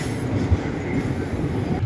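A Ranikhet Express train hauled by a WDM3 diesel locomotive at Marwar station gives off a steady, moderately loud rumble of rolling rail cars, with low-end wheel noise running unbroken throughout and no voices.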